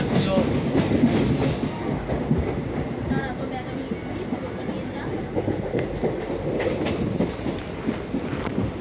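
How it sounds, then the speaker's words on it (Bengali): A passenger train pulling into Tarapith Road station, a loud rumbling clatter of wheels and carriages with rhythmic clicks, heard from on board with people talking over it. "এখন আমাদের ট্রেন ঢুকছে তারাপীঠ রোড স্টেশন।"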